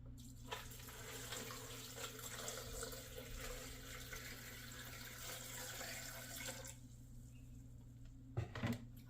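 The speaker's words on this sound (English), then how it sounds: "Three cups of water." Water streams steadily from a tap into a pot while cooking lentil tofu, a soft continuous splashing that stops near the end, followed by a couple of light knocks against a faint background hum.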